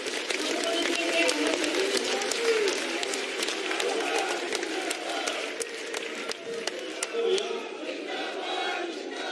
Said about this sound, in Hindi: हम सभी का नेतृत्व कर रहे आदरणीय श्री सीपी जोशी जी को जोरदार तालियों के साथ